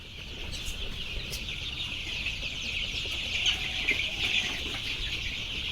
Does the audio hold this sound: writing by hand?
no